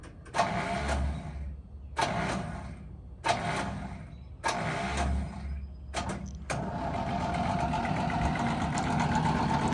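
Iffy-starter engine cranking in four separate bursts, each a rough churning whir with pauses between, then catching and firing up into a steady loud running roar.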